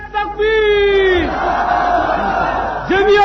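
A crowd at a Jamiat Ulema-e-Islam political rally roars a long, loud chanted response in unison after a leader's amplified call, and the leader's voice comes back at the end.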